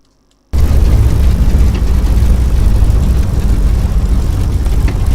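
Piper Cherokee light aircraft engine starting up after a brief silence, then running steadily with a loud, dense propeller drone that holds constant to the end.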